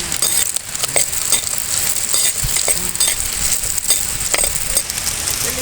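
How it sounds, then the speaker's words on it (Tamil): Onions and dried chillies sauté in hot oil with a busy close sizzle, broken by repeated spoon scrapes and light clinks against the pan, steady and fairly loud, no speech. "எண்ணெய் ஊற்றி நம்ம வெங்காயத்தை போட்டு வதக்கிடுவோம் அது கூடவே மூணு வத்தல் போட்டுக்கலாம்"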